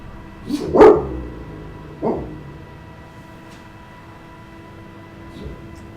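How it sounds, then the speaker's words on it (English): A pet dog barks in the background of racing game commentary, two sharp close barks in quick succession followed by a third a second later, then a faint distant yip; no speech. "For those of you who heard that was my dog barking, not me."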